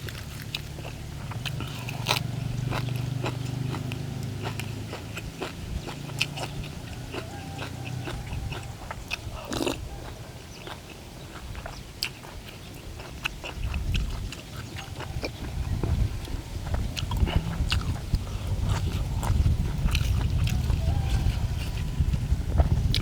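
Crunchy chewing and biting goes on throughout, with sharp crisp snaps repeating over a low rumbling background.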